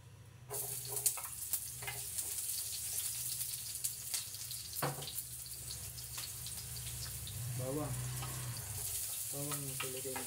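Garlic and onion frying in a pan make a faint, steady sizzle with scattered clicks and stirring, while a voice talks briefly toward the end.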